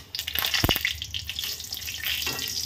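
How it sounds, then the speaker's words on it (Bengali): Dried red chillies and lentil dumplings frying in hot mustard oil in a home kitchen pan, giving a steady close sizzle with a few sharp pops and clatters, and no talk. "তার সাথে আমি বড়িগুলোও দিয়ে দিচ্ছি, বড়িগুলোও ভেজে নেব।"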